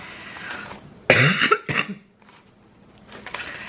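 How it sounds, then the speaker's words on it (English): A single harsh, wet cough bursts out close by, followed by a short rasping tail, then quiet. "That cough, I know it sounds horrible."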